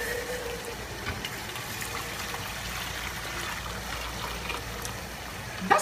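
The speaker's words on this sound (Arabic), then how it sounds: "هلأ بدنا نحط المي فوق الشعيرية" Boiling water is poured over vermicelli in a kitchen as a steady, continuous splash and trickle that holds evenly throughout at moderate loudness, with no talking.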